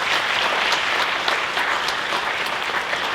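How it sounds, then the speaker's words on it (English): At a high school convocation, the audience gives a dense, steady round of applause for the scholarship winners. Occasional sharper individual claps poke out of the crowd's sustained clapping. "can we get one final round of applause for all of the scholarship winners?"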